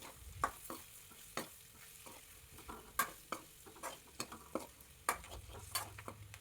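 Okra sautés in a pan with chilli powder for a Kerala-style tamarind curry, a quiet sizzle punctuated by sharp, irregular clicks and scrapes of a spoon against the pan.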